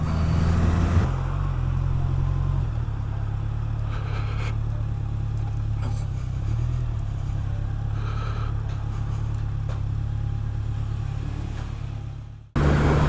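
A Honda CB1100 motorcycle is ridden along the road, a loud steady low engine drone with wind rush, the pitch shifting slightly partway through, then cutting off abruptly near the end.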